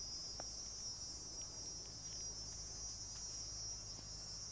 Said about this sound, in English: That indeed is a cicada. Or maybe not. It's very loud.